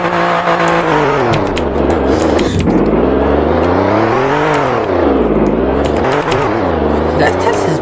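A race car engine in a video game revs hard and climbs steadily through the gears, its pitch rising and falling in repeated sweeps, loud and continuous throughout.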